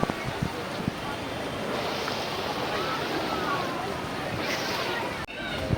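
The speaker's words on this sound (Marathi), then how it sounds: "इथं आता नदीमध्ये बघा पाणी." Ganges river water at a Haridwar ghat, a steady broadband rush of flowing water with wind buffeting the microphone and a couple of brief knocks.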